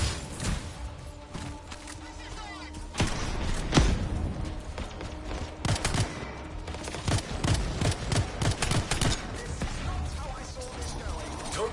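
Scattered gunfire and impacts in the video game Anthem, with sharp shots, crashes and clattering mechanisms over a constant dense battle background while voices talk.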